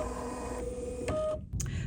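An embroidery machine works briefly, a mechanical whirring hum with a tonal whine that builds then cuts off, close and fairly quiet, with a short clack afterward.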